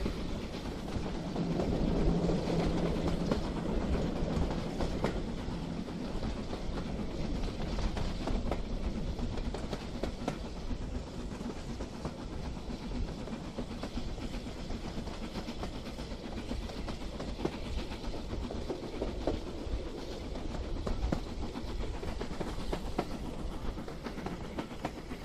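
A model Southern steam locomotive in SR passenger green, fitted with an Airthex 1001 motor and 40:1 gears, runs along the track. Its steady mechanical rumble and faint rail clicks carry on continuously with no talking.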